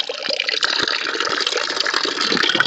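A shower runs for a waterproof challenge, a continuous close hiss of spraying water with splashy fluctuations, steady and fairly loud throughout, without speech.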